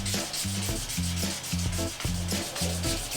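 Hand sanding with 1000 grit sandpaper over a paint repair on a motorcycle clutch lever or derby cover, heard as a steady run of close, rhythmic back-and-forth rubbing strokes with no voices.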